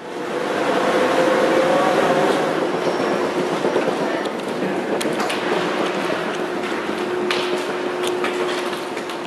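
Airport AirTrain people mover at Pittsburgh airport running between terminal and gates, a loud steady rolling rumble with a faint whine and some clatter, continuous throughout and without talk.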